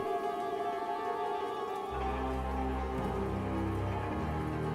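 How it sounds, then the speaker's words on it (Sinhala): Steady rain falls on surfaces through the night outside a house, a continuous faint hiss with a low tonal hum rising partway through, no voices. "මේ වැස්ස පායන පාටක් නෑ වගේ"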